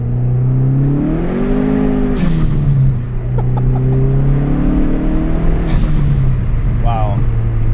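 A 400 HP Mopar Stage 3 Neon SRT-4 engine drones steadily from inside the car, its pitch rising and falling through two swells as it pulls, continuous and loud beneath a person's speech.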